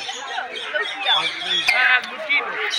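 Many birds squawk and chatter together nearby at Alipore Zoo in Kolkata, a dense jumble of shrill calls with a few sharper squeaks standing out.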